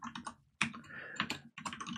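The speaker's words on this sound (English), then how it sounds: "Sometimes I really hate not being able to see what I'm typing." Bursts of computer keyboard typing, close and crisp, in quick irregular clusters of keystrokes separated by brief pauses, with no voices.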